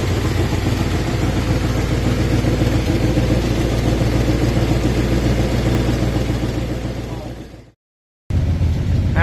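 A 1966 Plymouth Fury's engine idles close by with a steady, loud, rough rumble. It fades out near the end, drops to silence briefly, then returns.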